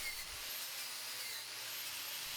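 A knotted wire wheel spins against metal planer parts during restoration cleaning, giving a steady, bright, hissing whir that holds unbroken for a couple of seconds at a fairly faint level.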